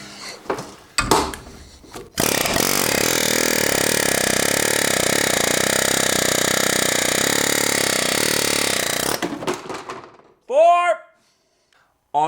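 An air hammer on a 1977 Toyota SR5 pickup fires in a loud, steady burst that lasts about seven seconds, with some clanks and handling noise before it and short squeaks after.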